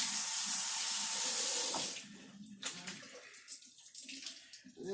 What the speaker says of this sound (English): I'm going to rinse them in cold water.